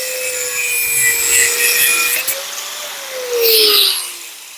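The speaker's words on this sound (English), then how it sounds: "now we'll use a precision instrument to shorten the bolts" Metal bolts being cut down to length in a workshop while building a custom Buell rigid chopper, the stud section held rather than the head; a steady harsh cutting whine drifts in pitch and swells near the end.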